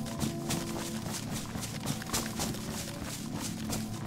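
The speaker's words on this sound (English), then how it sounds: "Prance around on the horse for a little bit" Horse hooves clopping at a quick running pace in DayZ, a steady rapid patter of fairly faint hoofbeats over a dense background, with no talk.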